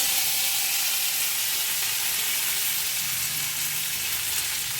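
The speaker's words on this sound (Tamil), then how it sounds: "கடுகு உளுந்து போட்டாச்சு இப்போ கருவேப்பிலை போடுவோம்" Mustard seeds, urad dal and curry leaves crackle and sizzle in hot oil for a tempering, a steady, close, dense frying hiss with no talk.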